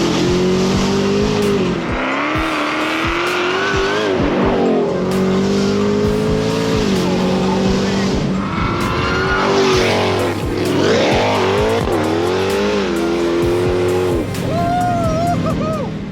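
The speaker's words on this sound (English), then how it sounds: "the loudest and wildest Hellcat I've ever been in" A loud Dodge Challenger Hellcat Redeye Widebody drives hard, its engine rising and falling through repeated revs and gear changes, with a brief tire squeal, close and dominant throughout.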